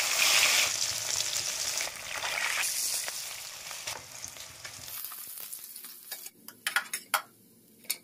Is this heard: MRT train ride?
no